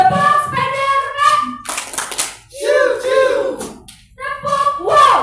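Children playing a rhythmic hand-clapping game, bursts of claps alternating with chanted voices, close and fairly loud, the clapping and singing trading off in short phrases.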